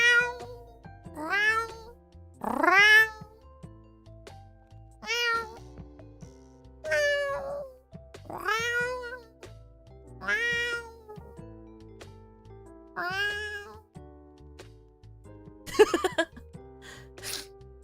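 A person imitates a cat, producing a series of about nine drawn-out rising and falling meows spaced a second or two apart, loud and close, ending with a brief sharp sneeze-like burst.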